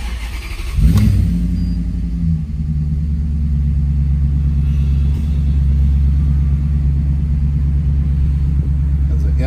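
A 2002 Maserati Cambiocorsa convertible with an upgraded exhaust starts up, a sharp crank and catch followed by a brief rev, then a deep, loud, steady idle rumble close by.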